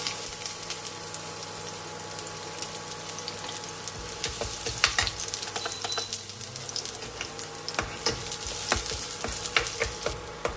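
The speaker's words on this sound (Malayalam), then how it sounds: "നെയ്യ് ചൂടായിട്ടുണ്ട്. അതിലേക്ക് ആദ്യമേ വെളുത്തുള്ളി ചേർക്കാം." Chopped garlic frying in hot ghee, a steady crackling sizzle with sharp spatter pops and occasional stirring scrapes throughout, fairly close and without voices.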